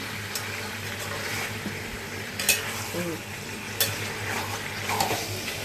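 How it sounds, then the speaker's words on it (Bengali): Chicken fries with green chillies in a pan. It sizzles steadily, and a few sharp stirring scrapes and clinks stand out over the constant hiss. "আজকে কাঁচা লঙ্কা দিয়ে চিকেন হচ্ছে আমার।"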